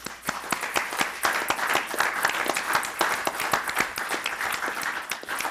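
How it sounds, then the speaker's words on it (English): People at a city council meeting give a round of applause, a modest group clapping with individual hand claps standing out in a quick, uneven rhythm, moderately close and steady throughout with no voices over it. "So I'd like to give him a round of applause."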